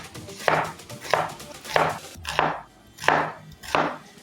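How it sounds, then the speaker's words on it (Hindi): Knife slicing an onion into long strips on a board, six crisp evenly spaced chops about two-thirds of a second apart, close and clear with no talk. "प्याज को भी लंबा लंबा स्लाइस में काटेंगे इस तरह के"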